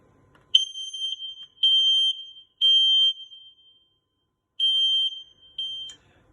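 Several shrill, piercing electronic beeps from a smoke alarm sound in bursts with brief pauses, loud and close, with no talking.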